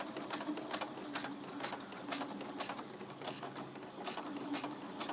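Sewing machine slowly stitching appliqué fabric pieces for a quilt, a soft rapid ticking of needle strokes in short uneven runs, quiet and close with no talk.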